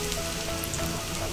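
Shrimp toast, a slice of bread topped with shrimp, frying at medium heat in oil, giving a steady, even sizzle with a fine crackle that stays close and constant throughout, with no talking.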